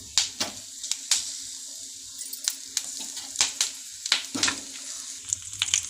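Mustard seeds and cumin dropped into hot oil for a Telugu brinjal curry, giving scattered crackling pops and sharp spits over a low sizzle, close and moderately loud, with no talking.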